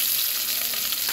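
Garlic and onion frying in a casserole pot, a dense, steady hiss of sizzling oil held close and constant for the whole short stretch, with no voices.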